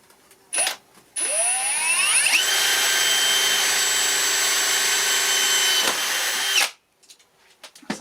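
A power drill bores a hole through the lid of a DIY glass-fusing kiln: a short burst, then the motor spins up and whines steadily for about five seconds before stopping abruptly.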